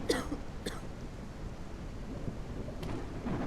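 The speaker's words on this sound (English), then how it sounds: "she's definitely coughing, though" A woman coughs in the video game Quarantine Zone: The Last Check, a few short bursts near the start over a steady low rumble of rain-like ambience, then quieter background noise.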